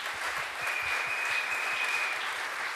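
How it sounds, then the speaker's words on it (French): A church congregation claps in praise at a fairly low level, a steady crowd patter with a faint sustained tone running through the middle. "Est-ce qu'on peut applaudir pour la gloire du Seigneur?"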